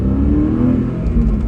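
A Porsche Boxster engine revs up and pulls away with a rising, throaty drone, loud and close, over about a second and a half.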